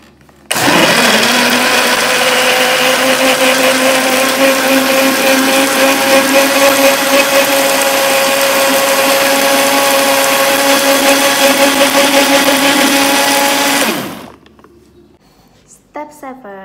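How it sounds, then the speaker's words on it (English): A blender whirs steadily at medium speed while blending guava into a smooth drink, a loud continuous motor roar lasting about fourteen seconds before cutting off abruptly, followed by a few faint clinks. "stir with blender at medium speed and wait until it's really smooth and soft"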